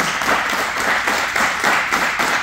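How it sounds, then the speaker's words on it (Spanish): Audience applause for Pablo Victoria at a Spanish-language talk on Blas de Lezo, a steady dense wash of clapping held at an even level for the whole stretch, no voices standing out. "un gran aplauso para Pablo Victoria"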